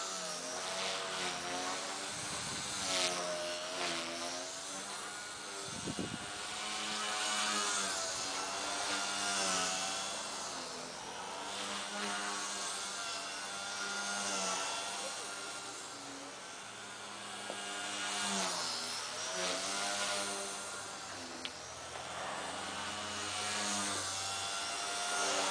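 A small MCPX brushless 3D RC helicopter flying, its rotor whine sweeping up and down in pitch as the blades bog under load, loud and continuous with a sharp knock partway through.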